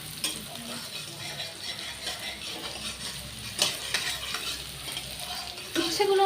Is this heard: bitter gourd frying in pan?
yes